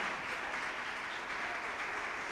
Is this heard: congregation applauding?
yes